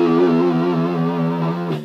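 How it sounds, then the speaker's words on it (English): An electric guitar with distortion holds a sustained, buzzy chord, loud and steady before it is cut off abruptly, played alone. "And that's when the distortion comes in."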